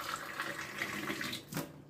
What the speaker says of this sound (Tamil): இதே டம்ளர்ல எந்த டம்ளர்ல அலம்பி பருப்பை போட்டேன் அதே டம்ளரால தண்ணி ஊற்றிக்கோங்க